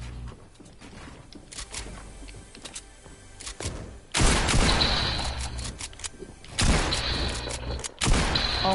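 Gunfire from a video game gun, heard as two loud, dense bursts of shots with a quieter stretch of faint game noise before them.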